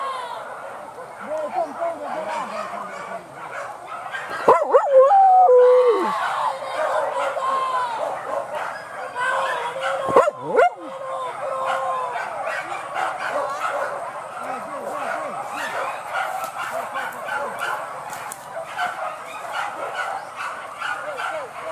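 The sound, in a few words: hunting dogs barking while chasing a wild boar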